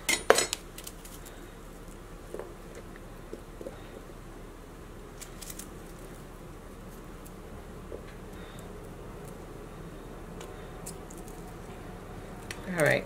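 A knife cutting a white onion on a cutting board in a home kitchen: a few sharp chopping knocks at the start and end, with faint scattered taps and handling noises between them.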